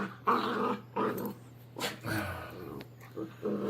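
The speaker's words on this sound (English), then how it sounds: "I'm also being viciously attacked by a chihuahua right now" A small chihuahua growls and snarls in playful bursts close to the mic, with short yips and whimpers between the rumbling growls.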